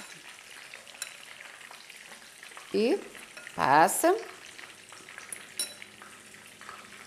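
Meatballs coated in egg and breadcrumbs fry in a pan with a constant crackling sizzle, broken by a few louder utensil clinks and scrapes as they are stirred, while a brief voice speaks.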